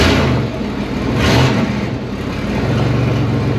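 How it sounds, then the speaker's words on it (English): A turbocharged rat rod car drives around a parking lot, its engine rumbling loud and close with a rising and falling throttle and a steady low drone throughout. "I'm gonna take it down to the parking lot, do some driving in the parking lot maybe"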